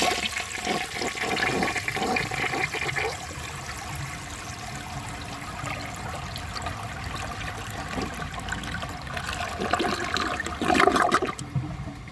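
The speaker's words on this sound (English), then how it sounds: "So let's give this a flush and see how it does on tests." A 1980 Crane Radcliffe toilet with lead pieces flushes loudly up close, a rushing gush of water draining for several seconds, settling into a steady refill trickle, then a brief swell near the end, with no talking.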